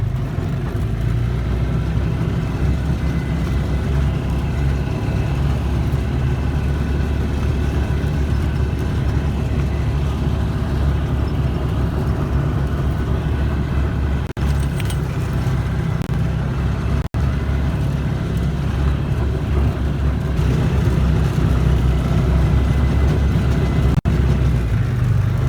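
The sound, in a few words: Polaris Ranger UTV driving in four-wheel drive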